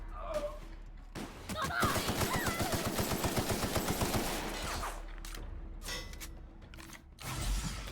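Rapid automatic gunfire from The Outer Worlds, a sustained burst of evenly spaced shots lasting a few seconds amid a firefight, with scattered single shots and clatter before and after and voices faintly under the action.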